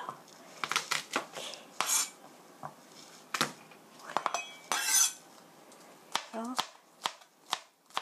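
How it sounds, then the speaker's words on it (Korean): A kitchen knife presses and minces garlic on a board while a cook prepares curry, giving sharp irregular taps, scrapes and chops at close range, scattered and fairly quiet. "마늘, 갈릭, 마늘은 이렇게 체중을 실어서 눌러주세요"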